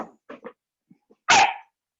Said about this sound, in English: the dog is participating